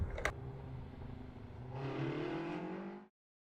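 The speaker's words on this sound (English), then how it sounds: "1 black car." A car passes along a residential road, its engine and tire noise swelling then fading over about three seconds, with a short sharp click near the start; heard alone with no voices.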